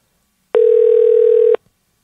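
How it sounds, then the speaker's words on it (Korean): A single loud, clean telephone ringback tone sounds once for about a second while a call is being placed, close and alone against silence. "지금 걸고 있습니다."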